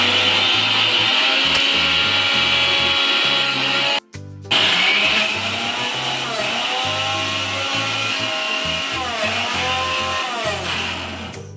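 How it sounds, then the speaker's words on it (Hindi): A mixer grinder grinding dry flowers whirs loudly and steadily, stops briefly for a moment, then starts again and keeps running with a dense, buzzing roar. "उसके बाद मैंने ये मिक्सी में पीसना स्टार्ट कर दिया।"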